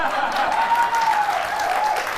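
Audience applause at a live talk with a ghost hunter, steady clapping from a crowd lasting about two seconds at even loudness, with a faint voice underneath.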